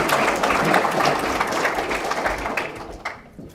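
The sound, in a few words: audience clapping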